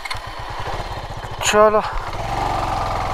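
A motorbike engine riding off-road over loose, shifting rocks in Ladakh, a close, rough chugging rumble that rises in a brief rev midway, with a voice speaking over it.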